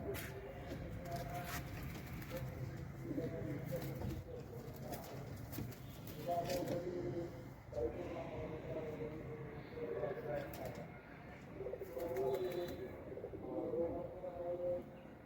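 Soft, repeated coos from pigeons sick with a cold, close by in several low bursts, running under a man's ongoing speech with occasional handling noise as a female pigeon is held.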